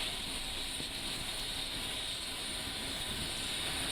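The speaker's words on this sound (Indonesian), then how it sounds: "Pesawat kepresidenan yang ditumpangi Jokowi mendarat perdana ini dengan mulus di Bandara IKN Kalimantan Timur" A presidential RJ85 jet airliner landing at the new capital airport in East Kalimantan, heard as a steady, loud broadband engine roar with a high whine held throughout, with no other sounds standing out.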